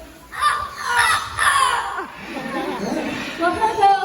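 A voice at a bird show at the Cebu Safari imitates a rooster crowing, with a few rising calls near the mic and crowd chatter in the background.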